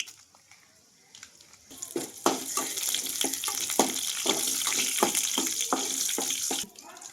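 Oil sizzles steadily after a quiet start as tempering spices and cumin go in, with repeated crackling pops over a continuous hiss, then cuts off near the end.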